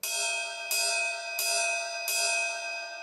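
A drumstick taps the bell of a cymbal four times at an even pace, each strike a bright, ringing metallic ping that sustains and fades before the next, close and alone.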